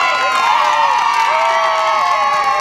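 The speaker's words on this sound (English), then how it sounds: "have a round of applause for Alex" An audience at a military show sword display cheers and claps for a performer, a dense wash of whoops and shouting voices with applause mixed underneath, loud and continuous throughout.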